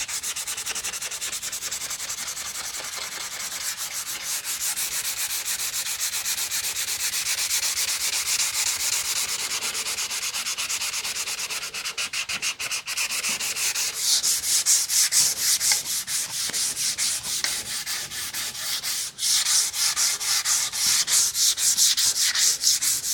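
A wooden guitar neck being sanded by hand with 220 grit sandpaper, a loud, continuous close rasping scrape that shifts slightly in tone midway and keeps going without talk.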